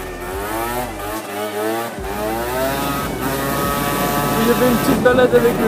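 A small two-stroke scooter with a derestricted exhaust revs loudly and raggedly close by, its buzzing exhaust rising and falling in pitch, continuous throughout.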